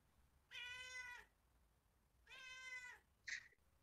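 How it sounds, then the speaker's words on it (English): A cat meows twice in drawn-out, tonal cries, followed by a short, higher chirp-like call; close and clear against a quiet background. "The cat can produce a sound as well."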